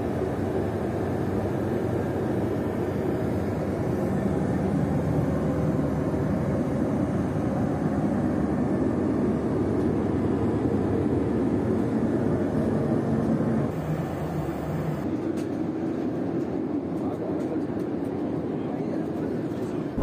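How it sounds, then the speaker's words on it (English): Steady broadband roar of a Boeing airliner cabin in flight, a constant whooshing hum that drops slightly near the end. "So far it's a really good flight on a very, very exciting aircraft."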